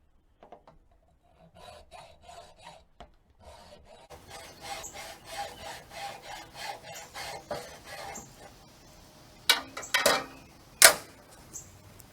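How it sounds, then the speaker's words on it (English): A hacksaw cuts through the stake of a raised garden bed with steady, rhythmic rasping strokes. The strokes are close and moderately loud, and a few sharper knocks and scrapes come near the end. "you can use a hacksaw to cut off the part of the stake that inserts into the ground"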